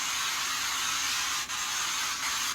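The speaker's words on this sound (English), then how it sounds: "Gonna give myself a little spray" Pat McGrath setting spray misted onto a face: one steady, loud, close hiss lasting a couple of seconds with a brief dip partway through.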